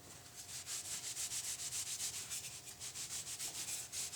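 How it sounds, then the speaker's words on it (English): Repeated rhythmic rubbing as excess wood stain is wiped off a wooden yard game block with a cloth, close and steady back-and-forth strokes with no talking. "what you're going to want to do is wipe all the excess off"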